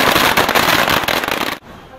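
Dense, loud crackle of firecrackers bursting nonstop at the Yanshui Beehive Firework Festival in Taiwan, a continuous barrage that cuts off abruptly near the end, leaving faint residual noise.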